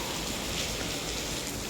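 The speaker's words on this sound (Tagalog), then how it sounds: "Umuulan" Steady rain pours down without a break, a dense, even hiss of drops falling on surfaces all around, close and fairly loud for the whole stretch.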